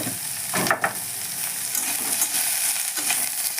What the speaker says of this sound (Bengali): কুমড়োটা এবার আমি হালকা করে ভেজে নিই।